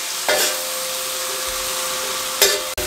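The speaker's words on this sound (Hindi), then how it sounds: "इसको थोड़ा सा कुक कर लेंगे ताकि मक्खन मेल्ट हो जाए और खुशबू आ जाए उसकी" Beef pieces with butter and coriander sizzling on a hot tawa, a steady close frying hiss with a couple of brief scraping stirs.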